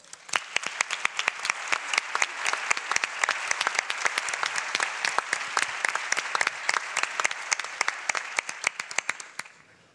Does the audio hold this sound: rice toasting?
no